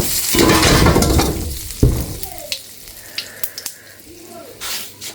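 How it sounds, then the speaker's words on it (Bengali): Hot oil poured from a wok into a curry crackles in a loud burst of sizzling for the first couple of seconds, then fades to scattered clinks and taps of utensils. "তো এবারে আমি এই কড়াই থেকে তেলগুলো ঢেলে তরকারিতে"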